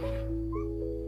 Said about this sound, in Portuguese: Minha gatinha apareceu.